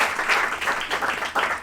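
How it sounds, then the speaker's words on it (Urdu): Audience applause at a church music gathering greets a preacher coming forward, a steady wash of many hands clapping close by that swells in rhythmic waves and carries on without any talking. "تو میں آپ کی بھرپور تالیوں میں دعوت دینا چاہوں گا شاہد جمی کو."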